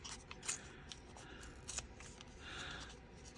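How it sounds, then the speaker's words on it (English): Paper torn by hand from an altered playing card for a junk journal, a few quiet rips and rustles close by, with a longer soft tear near the end and no talking. "So I'm just going to tear some of it and tear up this side."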